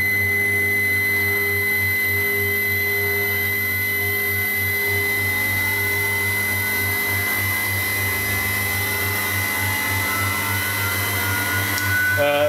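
Mikni 1610 CNC mill spindle at 6,500 RPM driving a carbide V-mill cutter through copper, giving a loud, constant high whine with steady tones that holds evenly throughout.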